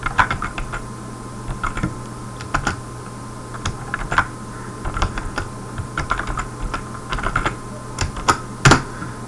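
Steady clacking of a computer keyboard as C code is typed, with quick irregular keystrokes and occasional louder taps, close and clear over a low background hum.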